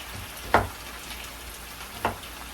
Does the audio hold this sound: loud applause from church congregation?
no